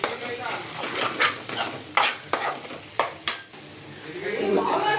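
Spoon stirring chilli powder into carrot coconut fry in a pan: a steady sizzle with several distinct scraping strokes against the metal, close and fairly loud, with no talk.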